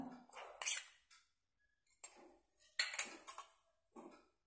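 Spoon clinking and scraping in a bowl while chana chaat is mixed with tomato, chaat masala, salt and coriander; several short, close, scattered bursts of clatter with quiet gaps between them, no talk.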